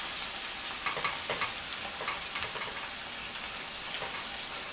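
Kale and other vegetables fry in a pan with a dense, continuous sizzle, and scattered crackles and stirring scrapes rise above it.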